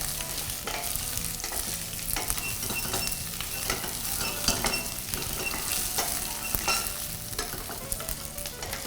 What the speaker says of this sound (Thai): ตอนนี้ก็แค่ผัดนะครับ ให้โดนไฟทั่วถึงนะครับ